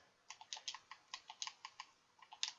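Rapid typing on a computer keyboard while building a Madden 15 Ultimate Team search, a string of light, close clicks in uneven bursts, with no talking.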